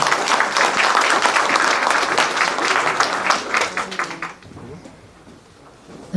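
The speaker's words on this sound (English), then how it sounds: "Another round of applause for the Jing family." A crowd at a Congressional Gold Medal presentation ceremony applauds loudly with dense clapping for about four seconds, then it fades to quiet murmuring.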